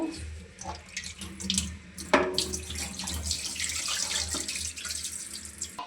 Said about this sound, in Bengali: মাংসগুলো এখন ধুয়ে নিচ্ছি রান্না করার জন্য।